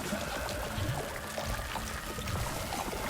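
Water poured in the video game Baby in Yellow to make a seed grow, a soft steady trickling and splashing that runs on evenly and quietly throughout, with no talk.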